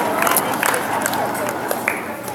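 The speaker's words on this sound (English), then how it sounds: "So big round of applause for them." Steady applause from an audience at a school family night, dense broadband clapping with a few louder claps standing out, filling the whole stretch at an even level.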